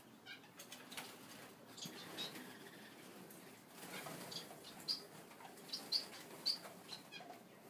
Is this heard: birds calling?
yes